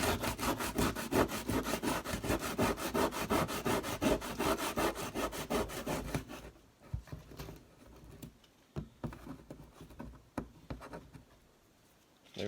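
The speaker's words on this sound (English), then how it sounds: "it looks like the hole needs some more sanding from the bottom" Sanding by hand inside a hole cut in a control panel for an HO scale model train layout, fitting it for a toggle switch; quick, steady rasping strokes run for about six seconds, then stop, leaving faint handling noises.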